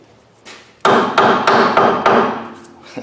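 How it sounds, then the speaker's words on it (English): A hammer strikes a Ford F-250 ball joint in five loud, sharp metallic blows at a steady, even pace, close up, with no talking. "hammer's too big, buddy."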